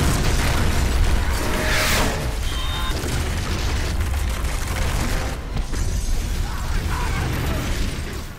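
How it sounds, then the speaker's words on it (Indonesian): A terrorist's planted bomb goes off in an action film scene, a loud sustained blast of rumbling, crackling debris and chaos that fills the whole stretch without letting up. "Stauffer, Galotti, dan temannya yang bernama Wisdom menyadari bahwa ledakan tadi adalah serangan dari para teroris."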